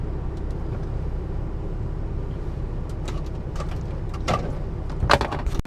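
A lorry pulls away from a loading area: steady low engine rumble throughout, with a few clanks and a louder mechanical burst near the end as it moves off at moderate distance.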